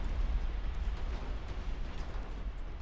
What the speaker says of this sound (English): Torpedoes have connected with the Love